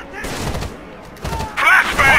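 Gunfire in the tactical shooter Rainbow Six Vegas, loud bursts of rapid shots in clusters with thuds between them and brief overlapping battle noise.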